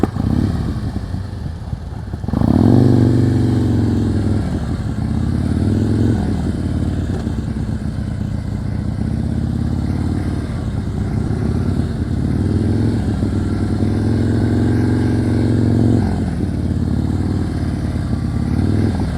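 A motorcycle engine runs continuously during slow-speed riding practice in Georgia, with low rumbling throttle swells and revs rising and falling over steady idle-range output, close and fairly loud.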